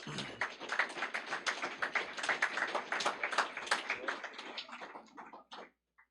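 A small audience at a letter-of-intent signing day ceremony for career and technical students claps in a close, distinct patter of individual hand claps that thins out and stops near the end.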